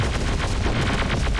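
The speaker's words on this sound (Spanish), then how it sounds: "tengo muy el volumen de los disparos muy alto" Rapid bursts of gunfire in the video game Terminator: Dark Fate - Defiance crackle continuously, a dense barrage of overlapping shots with booming low thuds, loud and close.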